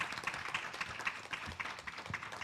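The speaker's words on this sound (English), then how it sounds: "Can we have a round of applause for our spellers so far," A faint, brief burst of scattered applause from the audience at a senior citizens' spelling bee competition, soft, distant clapping with no voices.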